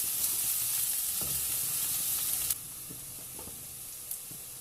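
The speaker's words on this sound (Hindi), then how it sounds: "अब डालूंगी 2 सब्ज़ मिर्चियाँ बारीक मैंने चॉप कर लिया था।" Finely chopped green chillies dropped into chicken frying in a pan for samosa filling, giving a soft, steady sizzle with a few quiet stirring knocks, close but low in level.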